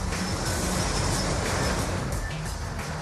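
Loud, steady rumble and roar of a passing train, broadband rail noise filling the whole stretch with no pauses.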